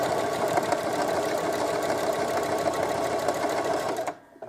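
A sewing machine stitches an appliqued arrow onto a sweatshirt, running loud and close with a steady whirring drone for about four seconds before stopping abruptly.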